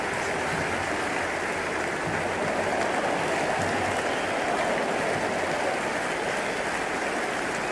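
A stadium crowd cheers at an India vs West Indies quarter-final in the video game Cricket 26. The noise is a steady, dense, loud roar that lasts throughout, with no talk.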